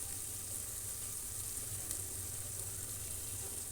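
Moong dal roasting dry in a pan for millet pongal, giving a steady, soft sizzling hiss with faint crackle throughout, unbroken and fairly quiet.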